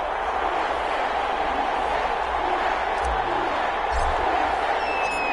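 A video game football crowd roars steadily at a Buffalo Bills versus New Orleans Saints match, a loud, dense wash of stadium noise with faint thumps and no clear voices above it.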